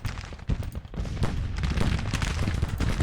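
An artillery battery firing in the Grand Tactician Civil War strategy game: dense, overlapping booms and crackling volleys that roll on continuously and loudly, with no talking.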